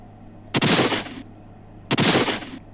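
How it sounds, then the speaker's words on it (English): Two heavy shotgun blasts from The Oregon Trail 5th Edition game ring out about a second and a half apart. Each is a loud, booming crack with a short ringing tail over a quiet background. "let's try shotgun this time"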